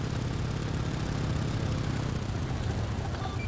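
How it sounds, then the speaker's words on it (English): A WW2 tank engine idles in the Arma video game, a steady low rumbling drone with exhaust burble, loud and continuous throughout. "The exhaust sound is awesome on the tanks."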